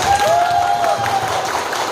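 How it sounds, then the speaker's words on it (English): Audience applause at a Vestige MLH team Christmas event, a steady, loud wash of clapping mixed with crowd noise, with a faint sustained tone running through the first part. "Big round of applause for her."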